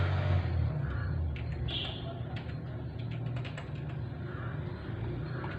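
Light, scattered keystrokes on a computer keyboard as a web address is typed, faint and irregular beneath a steady low background hum.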